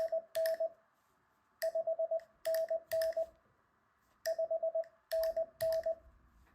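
Morse code beeps spelling the number 5 and the letter N, played as clean steady electronic tones in short grouped bursts of dits and dahs separated by silent pauses, with faint clicks at each group's start.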